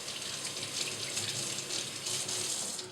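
Dishes are rinsed under a running kitchen tap, a steady close stream of water splashing into the sink with no voices over it.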